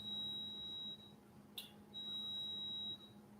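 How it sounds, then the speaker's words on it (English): A washing machine's high, steady electronic beep holds for about a second, breaks off briefly, then sounds again for another second over a faint low hum. "that's my washing beeping"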